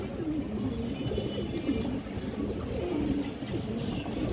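Pigeons coo in low, throaty murmurs at a pigeon sale, with several birds overlapping into a dense, continuous burble against busy background noise.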